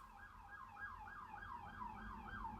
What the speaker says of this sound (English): You heard the sirens in the background